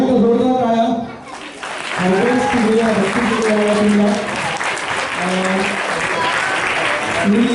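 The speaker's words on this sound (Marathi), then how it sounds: "पुन्हा एकदा जोरदार टाळ्या" A crowd at a Harry Potter–themed stage show gives a loud, sustained round of clapping, with sung or played tones over it.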